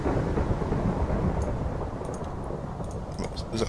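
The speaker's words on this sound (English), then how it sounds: "It's really raining." Steady rain with a low thunder rumble in a video game world, continuous and fairly loud, with faint clicks over the top; no voices.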